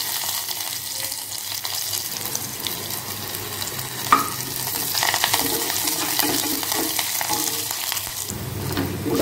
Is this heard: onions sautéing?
yes